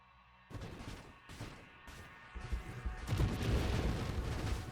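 Deflagration skill explosions in an action video game, a run of crisp booming bursts that begins after a quiet start and thickens into overlapping crashing blasts, loud and without talk.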